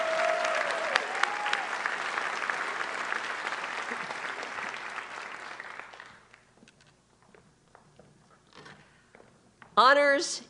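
Audience applause at an honors ceremony fills the room with dense clapping for about six seconds, then dies away to scattered claps and rustling before a speaker's voice comes in close and loud.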